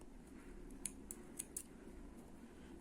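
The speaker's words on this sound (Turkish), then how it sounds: "Daha sonra kesiyorum. Bu taraftaki ipimi de kesiyorum." Scissors snip embroidery thread in four sharp, close cuts while finishing a needle-lace flower motif, the crisp clicks spaced within about a second over a quiet background.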